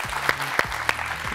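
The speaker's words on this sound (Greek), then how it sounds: "Χειροκρότημα δυνατό." Audience applause during a cooking show, a short dense burst of clapping with a few sharp louder claps standing out, close and moderately loud.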